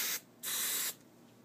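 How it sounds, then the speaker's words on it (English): Hairspray from an aerosol can misted over styled hair in two short bursts, a brief hiss followed by a longer one, close and fairly quiet with no talking. "you're just going to give that a good spray with hairspray."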